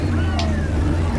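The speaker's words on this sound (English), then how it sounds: "hearing those engines go off, I mean, they are powerful" American muscle car engines rumble in a steady, loud, low drone as they roll past in a state fair parade, with no distinct revving bursts standing out.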